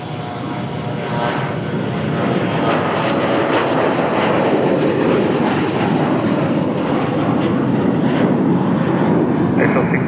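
An airplane takes off after tower clearance, its engine a steady, loud, broadband roar that holds throughout with a faint rising tone.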